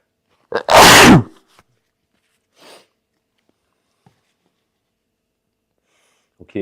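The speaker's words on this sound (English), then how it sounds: "Excuse me because I need to sneeze." A single loud, close sneeze bursts out in near silence, followed by a faint breath and small quiet sounds afterward.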